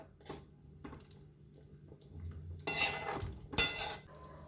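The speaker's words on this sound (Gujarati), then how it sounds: "અને ચમચાના મદદથી હલાવી લઈશું." A spoon stirs dal dhokli with jaggery in a pot, giving a few soft scrapes followed by louder metallic clinks and scrapes close by, with no talking.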